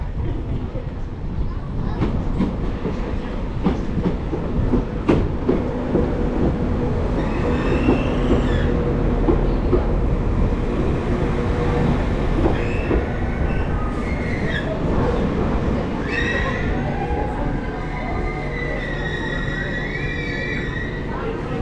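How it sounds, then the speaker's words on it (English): A Class 197 passenger train arriving at Tenby station in Wales rumbles close by with a steady low roar, wheels squealing faintly and brakes hissing as it draws in, voices murmuring in the background. "This is our train to take us to Carmarthen."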